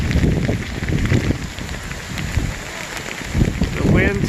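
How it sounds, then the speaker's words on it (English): Heavy rain and gusting wind batter the surroundings during a high desert rainstorm that also brought large hail, a steady dense wash of noise with occasional louder bursts and a voice faintly audible underneath. "It's just raining like stink."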